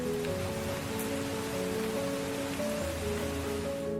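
Steady rain patters on a surface, an even hiss of drops with a faint low hum underneath and no voices.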